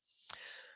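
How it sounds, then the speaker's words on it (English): One faint, sharp click of a computer keyboard key press, with soft background hiss around it. "hit the delete key on your keyboard"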